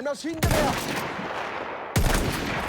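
Gunfire in the Battlefield 1 video game: two heavy, close blasts about a second and a half apart, each trailing into a long roaring rumble, with a brief burst of clatter before the first.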